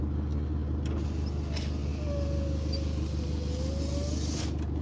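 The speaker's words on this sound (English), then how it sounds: "I just started the car" A car engine that has just been started idles steadily with a low, continuous rumble inside the cabin, alone and at an even level throughout.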